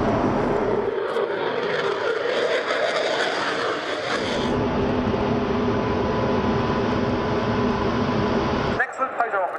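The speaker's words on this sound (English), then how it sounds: "the Belgian F-16 is widely regarded as one of Europe's top jet demonstrations" Belgian F-16 fighter jet flying a display at an air show, a loud continuous broadband roar that shifts in tone partway through and cuts off near the end, with a voice talking over it.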